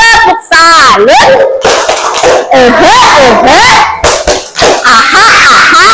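A group of teachers in a coaching-supervision workshop performs a clapping chant, sharp rhythmic handclaps mixed with lively voices calling out together, loud and close throughout.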